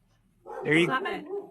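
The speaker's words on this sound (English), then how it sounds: "Hopefully you can keep that in this podcast, your dog barking." A dog barks and whimpers in a short, close burst indoors during a podcast conversation, with a person speaking nearby.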